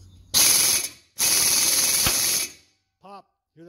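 Loud ratchet clicking in two long bursts as a ratchet wrench turns the seized two-stroke engine of a Subaru 360 van, with a sharp pop as it breaks loose; a brief voice follows.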